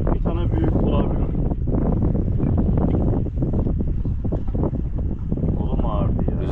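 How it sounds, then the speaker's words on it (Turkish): Strong wind buffets the microphone steadily on a fishing boat at sea while hunting whiting, a constant loud roar with someone talking over it. "Rüzgar da çıktı."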